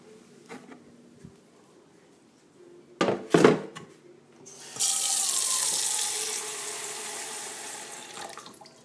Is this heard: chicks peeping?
no